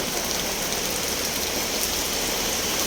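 Heavy rain pours steadily, a dense, even hiss with no pauses and no voices.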